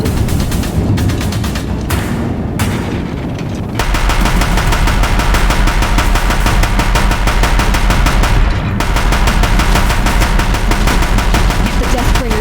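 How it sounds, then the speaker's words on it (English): Deathbringer machines in Horizon Zero Dawn firing their heavy guns: loud, relentless rapid-fire bursts with a brief gap early on, then a continuous hammering barrage at close range. "If the Deathbringers keep firing, this bridge will go."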